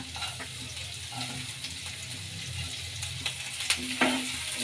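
Ginger, garlic and green chillies fry in a pan with a quiet, steady sizzle, punctuated by occasional clicks and scraping stirs, close with no talk.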